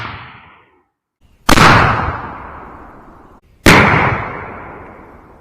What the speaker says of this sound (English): let's shoot this third steel BB down there